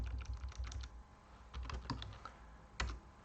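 Typing on a computer keyboard while entering text on a web page: quiet clusters of quick key clicks in short bursts, pausing between runs, close and alone.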